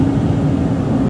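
Steady low rumble of a car cabin while driving, a dense engine and road drone with no voices, cutting off abruptly at the end.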